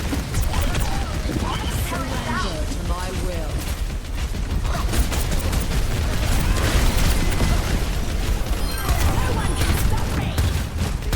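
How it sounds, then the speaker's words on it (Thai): Rotating cannon fire in the video game Overwatch 2, a steady stream of heavy shots with mechanical whirring, loud and continuous throughout, with someone talking over it. "อาวุธคอนฟิกเรชันแอสเซลเปลี่ยนเป็นปืนใหญ่หมุนได้ เป็นการยิงกระสุนด้วยอัตราการยิงที่ช้าลง"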